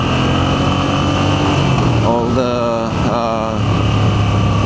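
Moto Guzzi V7 Sport motorcycle being ridden, its engine droning loudly throughout with pitch falling and rising as it slows and picks up speed, the riding noise continuous.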